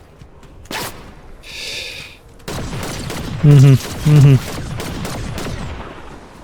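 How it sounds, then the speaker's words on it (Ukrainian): Gunfire in the Fortnite video game, with sharp bursts and a shot, then brief tonal blips, heard close while a player mutters over the action. "Тобто ти по мені постріляв і тікати зібрався."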